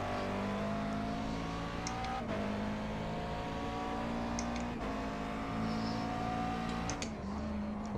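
Steady engine drone of a McLaren Grand Am race car in iRacing, holding a sustained tone with slight pitch shifts and gear changes, continuous and fairly loud with no talking.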